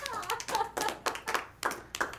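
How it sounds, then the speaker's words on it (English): Scattered audience claps at a comedy show, about six short bursts spaced roughly half a second apart, thin and close rather than a full ovation. "You can applaud"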